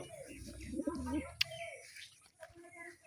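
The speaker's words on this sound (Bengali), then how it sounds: "দেখুন গাইস কবুতর কত সুন্দর হাতে আসছে" Soft pigeon cooing and a few chirps close by, mixed with someone talking and some handling noise.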